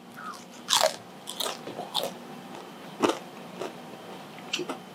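Tortilla chips from nachos crunched while eating, several distinct crisp bites and crunches spaced irregularly, close and fairly quiet with no talking.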